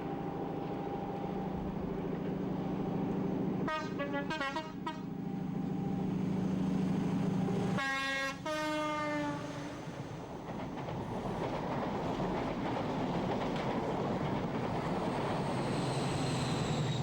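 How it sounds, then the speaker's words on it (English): A diesel high-speed train roars steadily nearby climbing Dainton Bank in Devon on a rainy day, engine drone holding throughout, with a brief two-tone horn blast and rain hiss in the background. "It's a rainy day in Devon, but the train makes light work of the dreaded Dainton Bank"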